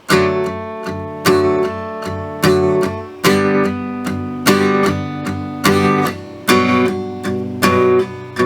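Strummed acoustic guitar chords ring out in a steady, even rhythm, about a dozen firm down-strums, each struck sharply and left to ring, with no voices.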